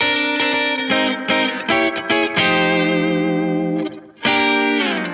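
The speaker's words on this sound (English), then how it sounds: "here's a little turnaround you can use to make it sound a little more interesting" An electric guitar plays a short, bluesy descending turnaround phrase of ringing, slightly distorted notes and chords in a 12-bar blues, with a brief pause near the end.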